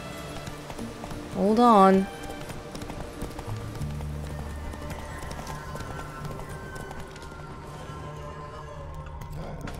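Roach, the horse in The Witcher 3: Blood and Wine on PC, gallops with steady, close clip-clop hoofbeats throughout, and a short whinny rises early on while someone talks over it.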